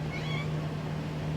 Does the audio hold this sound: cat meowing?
yes